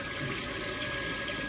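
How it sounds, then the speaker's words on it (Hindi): Automatic toilet seat flushing, a steady rush of running water filling the bowl, close and continuous with no voices. "ये फिर फ्लशिंग ले लेगा।"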